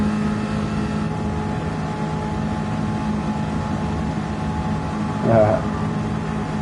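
A steady car engine drone with a whooshing wind-like hiss in Gran Turismo 7, continuous and even, with a brief brighter blip near the end.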